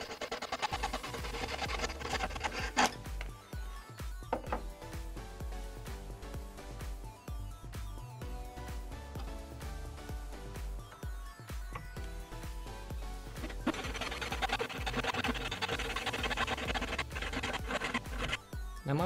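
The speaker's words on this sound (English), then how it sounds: "We then cut through the marking we made in the metal and remove the excess metal." A thin D-band metal wire is cut by hand, with a quiet, irregular scratching and rasping that runs throughout, broken by small clicks and taps and growing denser toward the end.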